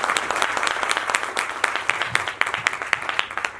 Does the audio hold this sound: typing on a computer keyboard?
no